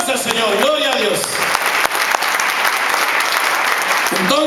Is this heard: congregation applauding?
yes